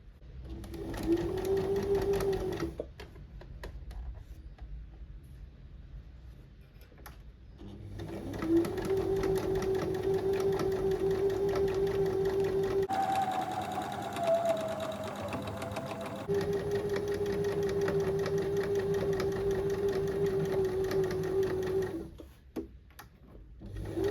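A sewing machine stitching a tote bag, running in long steady whirring stretches with brief pauses between, close and continuous with a constant motor hum.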